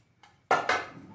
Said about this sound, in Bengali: তো এবার ঢাকনাটা খুলে দেখি